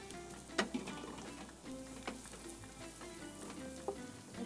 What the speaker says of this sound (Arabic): حط الزعفران وحمص البصل.